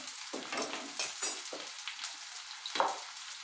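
Onion fries in a pan with a soft, continuous sizzle, marked by a few scraping stirs of a ladle and faint clinks, with no talk over it.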